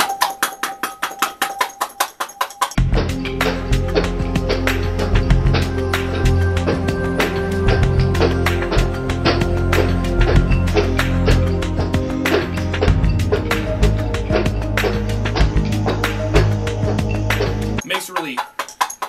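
Garlic cloves shaken hard inside a closed container to loosen their peels, a dense continuous rattling clatter that runs steadily for about fifteen seconds before stopping abruptly.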